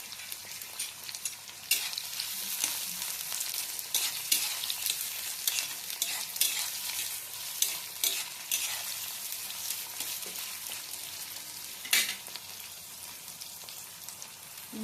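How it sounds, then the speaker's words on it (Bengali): Onions fry in a pan with a steady, close sizzle, crackling and popping irregularly throughout, with occasional stirring clatter and no talking. "দিয়ে দেবো পেঁয়াজ। ভেজে নিয়ে তারপরে এটা বাটতে হবে।"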